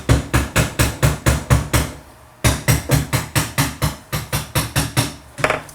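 A toy hammer strikes a toy tool play set in quick regular rhythm, a pause, then another steady run of knocks, close and fairly loud.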